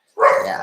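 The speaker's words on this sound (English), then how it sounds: "If you hear the dogs barking" A single short dog bark or yip sounds close by, loud and clear, with a brief word spoken just before it.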